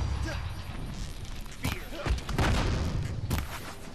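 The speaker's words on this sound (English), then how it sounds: "Who's shooting me with rockets?" Rockets fired in the action game Horizon Zero Dawn: booming blasts and impacts thud repeatedly through dense, noisy combat, with a voice speaking over the barrage.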